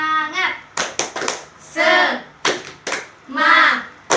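Schoolchildren in a primary classroom chant along with a teacher and clap in short rhythmic bursts, sharp hand claps alternating with voiced chanting.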